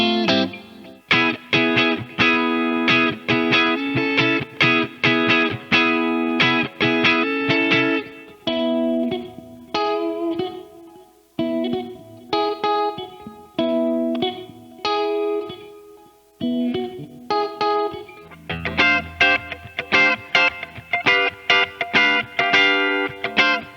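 A PRS SE NF3 electric guitar with single-coil-style pickups plays a rhythmic run of chords and notes through effects, bright and sustained, pausing briefly before resuming with dense strumming.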